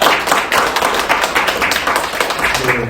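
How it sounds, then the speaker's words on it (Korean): An audience claps steadily for the director of the Dongjak independent living centre for disabled people, at a forum on disability voting rights. The applause is dense and sustained throughout, with no break. "우리 소장님께 다시 한번 박수 부탁드리겠습니다"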